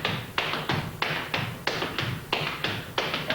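Shoes tap and brush on a hard floor in a flatfooting 3-sound walking step crossed in front, repeating in a steady three-beat pattern, close and clear without speech.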